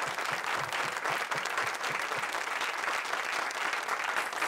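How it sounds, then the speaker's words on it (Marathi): A studio audience on a Marathi quiz show claps in steady, sustained applause that holds at an even level throughout, with no voices standing out. "टाळ्या वाजत राहायला पाहिजेत माझी सही होईपर्यंत."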